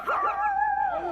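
A woman imitates a dog with her voice, giving one drawn-out, wavering bark-like howl up close, with a short breathy onset and no other talk.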